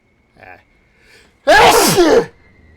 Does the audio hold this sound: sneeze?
yes